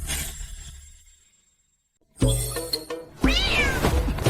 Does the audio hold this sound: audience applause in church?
no